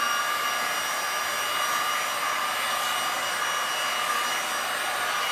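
Heat tool blowing warm air over poured resin on a silicone and acrylic swipe piece to pop surface bubbles, a steady, close airflow hiss running evenly throughout with no talking.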